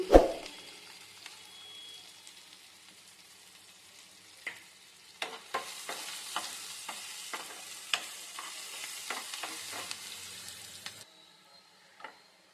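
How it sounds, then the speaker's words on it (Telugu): Spice seeds, onions and asafoetida sizzle in oil for a tadka: a quiet, close crackle in the background, punctuated by a series of light stirring taps and scrapes before the noise stops abruptly near the end. "తాలింపు వేగిపోయింది"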